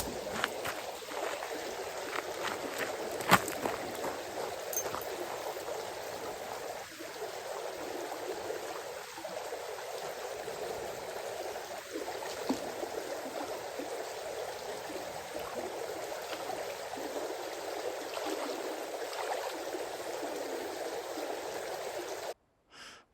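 A beautiful river in Oregon rushes in a continuous, even wash of flowing water, close and moderately loud, with no one talking.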